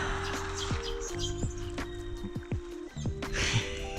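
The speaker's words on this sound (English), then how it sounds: "Like right where I stopped to listen to the birds." Birds chirping outdoors, several sharp repeated chirps and tweets scattered across a few seconds, fairly close, over a soft background with no talk.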